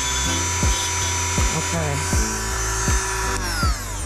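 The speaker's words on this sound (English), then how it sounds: "I think I'm going to drill down instead of through the side." A diamond bit drills into a fragile seashell with a steady high-pitched whine, broken by repeated short grinding catches as the bit bites, loud and close while a voice says a brief word.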